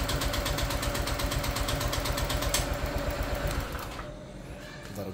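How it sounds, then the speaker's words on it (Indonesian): A Honda PCX 150 scooter bored up to 175cc, fitted with a manual Keihin idle adjuster, runs with a loud, steady rhythmic engine chug close by, then its pitch and level drop toward the end, with no voices. "Sekarang gue nyalain dulu ya motornya."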